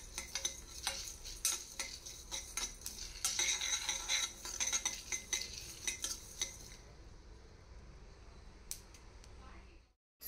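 Dry spices roast in a pan with quiet scraping and clinking as a utensil stirs them, in light, irregular strokes over a faint sizzle. The stirring stops partway through and leaves a near-silent stretch.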